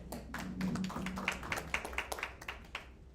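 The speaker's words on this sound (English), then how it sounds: "Let's clap for Mozilla." An audience at a product launch event for a continuous glucose monitor gives a short, faint round of applause, with scattered claps tapping unevenly in quick succession before fading.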